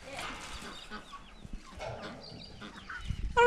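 Chickens on a small farm being herded along, with soft clucking and scattered fowl calls over busy barnyard background noise, a louder burst right at the end.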